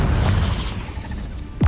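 A Confringo spell explosion in Hogwarts Legacy lands as a deep, booming burst with a rumbling low tail that fades out. A sharp new impact hits right at the end.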